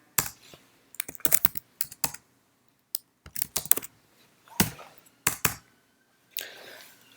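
Computer keyboard typing with bursts of sharp key clicks and brief pauses, including presses of the Tab key while filling in a form, close and clear with no talking.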